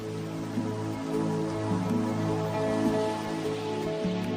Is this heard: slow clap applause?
no